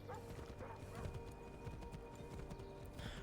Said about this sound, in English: the horse riding in this game sucks